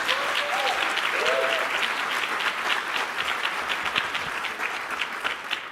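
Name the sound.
warm round of applause at book launch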